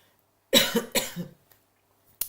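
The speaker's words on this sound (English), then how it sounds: "excuse me about my cough" Two close, harsh coughs in quick succession, then a faint shorter one after a pause; no talking.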